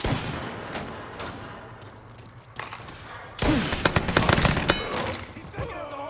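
Gunfire in Mafia 3: scattered sharp shots at first, then a loud burst of rapid automatic fire that breaks out partway through and continues, with a few quieter cracks before it.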